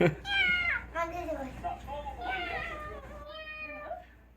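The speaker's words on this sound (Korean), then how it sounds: "야옹이가" A cat meows several times in a row, with rising and falling drawn-out cries close to the microphone and a voice faintly in the background.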